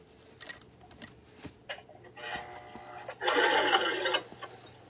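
A sewing machine stitches a fabric face mask in short bursts, a brief run followed by a louder, longer burst near the end, with faint ticks and handling noises between and no talking.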